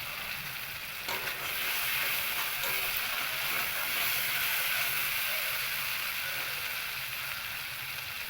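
Bottle gourd pieces tipped into a spice paste frying in oil for a gourd-and-prawn curry, giving a steady, loud broadband sizzle with a brief clatter near the start, continuing evenly throughout with no talking.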